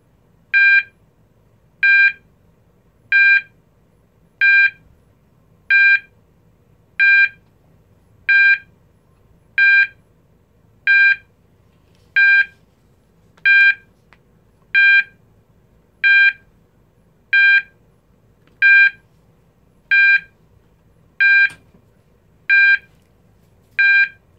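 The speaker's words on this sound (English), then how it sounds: "I've kind of coined this term or this tone 800 Hz beep, because it's kind of like a little beep" An E2S A100DC24R alarm sounder producing its 800 Hz intermittent tone: about nineteen short, identical electronic beeps at a steady rhythm roughly every 1.3 seconds, clear and alone against a quiet hum.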